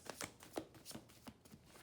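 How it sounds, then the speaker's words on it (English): Tarot cards are shuffled close by, a string of quick, crisp riffling snaps and taps in an uneven rhythm, quiet and alone. "Let me just shuffle then."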